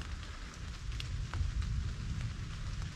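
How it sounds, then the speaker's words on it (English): Rain patters steadily on a tent during solo wilderness camping, a dense soft hiss with low drumming and occasional sharper drops close overhead. "You can hear the rain."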